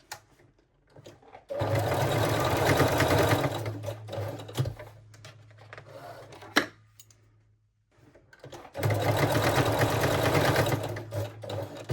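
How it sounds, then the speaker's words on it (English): Sewing machine running straight stitch along lace seams of Brazilian panties, two sustained loud bursts of fast steady needle chatter separated by a quieter pause with brief clicks and handling noises. "Lock all seams with the straight stitch."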